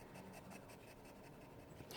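A broad nib fountain pen scratches steadily across paper, quiet and close, with a faint rhythmic stroke pattern and a slight louder scrape at the end.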